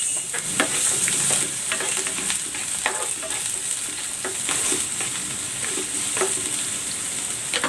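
Sliced onion frying in cooking oil, a steady close sizzle with stirring clinks and scrapes all the way through, no talking.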